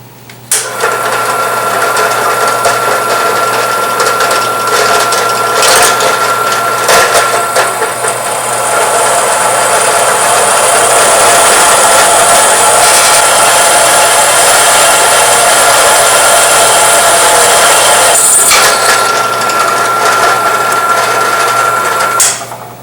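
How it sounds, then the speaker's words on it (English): A power drill whirs steadily and loudly, with brief pauses and changes in pitch as it bores pilot holes with a small bit for mounting racing seats in a BMW E36. "Use a smaller drill bit to drill your pilot holes"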